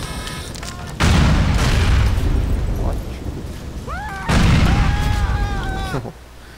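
Two loud rocket explosions from the GTA IV video game, each a sudden booming blast trailing into rumble, spaced a few seconds apart, with a voice briefly over them.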